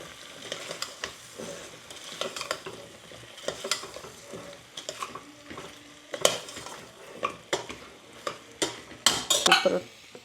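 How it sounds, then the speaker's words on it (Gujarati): A spoon stirs and scrapes bottle gourd into spiced lentils in a pot, with soft clinks and gentle sizzling in irregular bursts. "આપણે એમાં નાખી દઈએ અને મિક્સ કરી દઈએ મસાલા સાથે"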